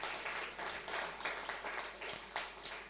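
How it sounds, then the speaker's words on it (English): Continuous applause from the audience at a COP27 session on gender and climate justice, a dense, even patter of hand clapping that rises and falls gently. "give a big hand clap to the Honorable Christine Kaya"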